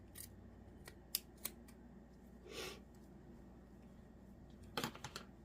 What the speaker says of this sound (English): I'm just going to get a pair of longer scissors. And I'm going to cut probably a 1/2 inch